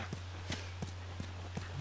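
Horse hooves clip-clopping at a steady walking rhythm in the video game The Last of Us Part II, five evenly spaced soft thuds over a constant low hum.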